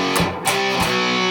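Distorted electric guitar plays a part from a song, with short choppy attacks in the first half before one chord rings out and sustains, loud and close with no talk.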